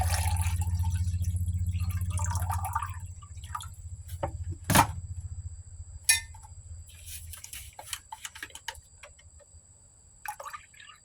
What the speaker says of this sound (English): So let's put some regular water in it.